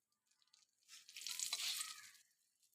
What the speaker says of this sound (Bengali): দিয়ে দিচ্ছি তেলের মধ্যে আমি হলুদ গুঁড়ো, দিয়ে দিচ্ছি লঙ্কার গুঁড়ো, দিয়ে দিচ্ছি কাঁচা লঙ্কা